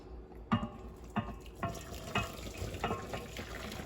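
Water drains from cooked squid in a pot for adobong pusit, heard as a faint splashing pour with several soft sloshing bursts and gurgles at irregular intervals, no voices.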